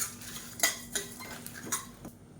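A utensil scrapes and taps against a pan while roasting spices and chillies several times at an uneven pace, quiet and close, with a faint steady hum underneath.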